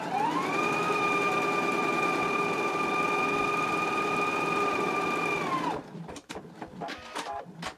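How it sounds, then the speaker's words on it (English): A home sewing machine runs steadily for nearly six seconds, stay stitching a 1/4 inch seam allowance around the neck edge of a yoke piece, a loud continuous motor hum, then stops and leaves scattered handling clicks. "we're going to go ahead and do stay stitching around the neck edge of this as well at a 1/4 inch seam allowance."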